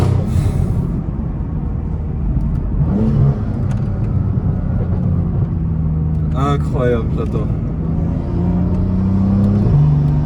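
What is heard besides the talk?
BMW M2 CS exhaust pops and crackles while driving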